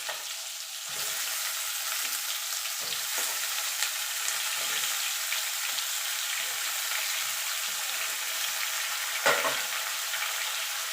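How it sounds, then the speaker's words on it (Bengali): Mixed vegetables fry together in a pan for a Bengali pui shak chhyachra, making a steady, dense hissing sizzle with a few brief louder crackles. "এবার আমি সব সবজিগুলো একসঙ্গে দিয়ে ভেজে তুলে নেব।"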